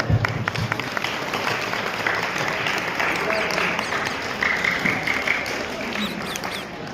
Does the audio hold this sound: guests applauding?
yes